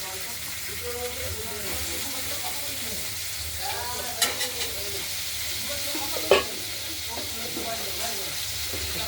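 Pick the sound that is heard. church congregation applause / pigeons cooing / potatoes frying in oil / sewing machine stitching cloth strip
potatoes frying in oil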